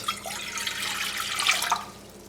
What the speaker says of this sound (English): we are going to take 500 milliliters of water, and we're going to add it all to a saucepan